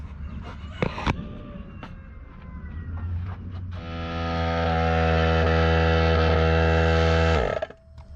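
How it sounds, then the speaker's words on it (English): Air compressor running at roughly 85 to 90 psi during a small engine leak-down test, starting midway as a loud, steady motor drone after scattered clunks, then cutting off near the end. "the pressure coming out of this compressor is roughly 85 pounds, close to 90"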